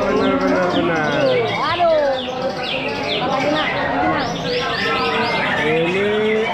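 Exotic songbird at a bird singing contest pours out a dense, continuous stream of rapid chirps, trills and whistled phrases, loud and close, with crowd chatter and other birds underneath.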